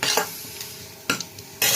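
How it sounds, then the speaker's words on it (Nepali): Garlic, onion, ginger and chilli frying in a pot for moringa soup, a close hiss broken by three loud bursts of stirring scrapes, no talking. "मैले यसरी चाहिँ लसुन, प्याज, अदुवा अनि खुर्सानी हालेर यसरी यसलाई चाहिँ भुट्दैछु।"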